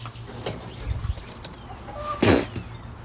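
Backyard hen clucking near the microphone, a few short bursts with one louder squawk-like cluck toward the end, over steady low background noise.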